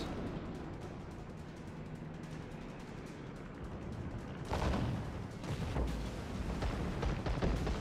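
Warship guns firing in the game World of Warships, a low rumbling barrage that grows louder partway through, with distant booms and continuous battle noise, no speech.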